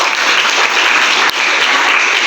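Dense, steady applause from a classroom audience at a nursing academy teaching session, loud and continuous throughout with no voices on top.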